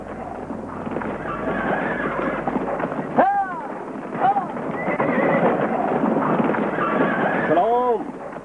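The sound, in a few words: horse neighing and clip-clopping hooves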